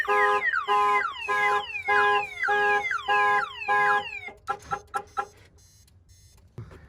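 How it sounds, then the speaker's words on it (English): A Viper aftermarket alarm on a Chevrolet Silverado pickup sounds loud and near in a rapid run of descending chirps, then stops, leaving a few scattered clicks and knocks in near quiet. "the truck turns off automatically and the alarm goes off"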